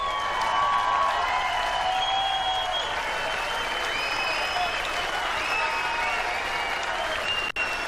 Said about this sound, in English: may we have another round of applause for 2 epic finalists.